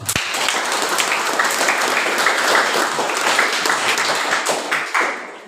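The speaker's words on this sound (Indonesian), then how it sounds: "tepuk tangan dulu untuk kita semua." Sustained, dense applause from a large group of vocational school students at an orientation assembly, loud and steady throughout before tailing off at the very end.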